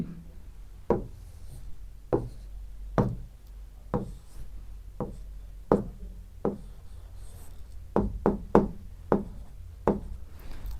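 A word is written by hand on a board, making sharp tapping and knocking strokes at uneven intervals, with a quicker cluster of taps near the end and no talking.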